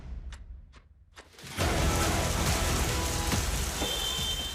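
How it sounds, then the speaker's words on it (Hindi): Heavy monsoon rain during floods in Bundi district, Rajasthan, begins suddenly as a loud, dense hiss of pouring water after a few quiet seconds with faint clicks, then continues steadily. "राजस्थान का बूंदी जिला भी इन दिनों भारी बारिश की मार झेल रहा है।"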